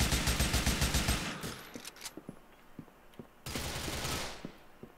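Rapid automatic gunfire from GTA IV crackles loudly for the first second, followed by scattered single shots and footsteps, then another sustained burst of heavy firing near the end.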